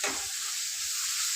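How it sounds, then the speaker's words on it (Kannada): A paste of tomato, potato and onion fries in a pan, making a brief, steady, close hiss of sizzling with no other sounds. "ಅದನ್ನು ಸ್ವಲ್ಪ ಇದ್ರ ಜೊತೆಗೆ ಫ್ರೈ ಮಾಡ್ಕೊತೀನಿ"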